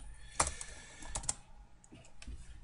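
Brief burst of typing on a computer keyboard as a folder name is entered, a few close, crisp key clicks spaced irregularly over a soft room background.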